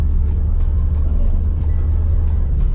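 A vehicle cruising along a highway, a steady low rumble of engine and road noise heard from inside, with faint rhythmic ticks over the drone.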